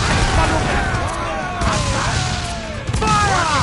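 Ship cannons boom in a broadside during a naval battle in Assassin's Creed Black Flag, with loud repeated blasts and crashes over a dense, continuous battle din while voices shout orders.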